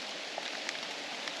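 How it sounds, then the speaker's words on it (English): A light drizzle falls in a lush rainforest near Hilo on Hawaii's Big Island, making a soft, steady hiss with occasional faint drops tapping on leaves, with no voices. "It's not too much rain, it's still okay. Just it's like a drizzle"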